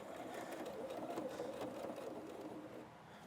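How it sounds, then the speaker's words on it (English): Sewing machine running a steady stitch along a quilted trucker hat seam at 3/8 inch, a continuous close whirring hum that stays even and moderately quiet throughout, with no speech. "this seam we are going to sew at 3/8 of an inch"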